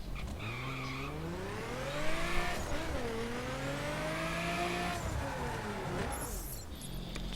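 A Nissan 370Z in the racing game The Crew drives with a steady engine drone that rises and falls in pitch through gear changes, with tire squeal and skidding noise, loud and continuous.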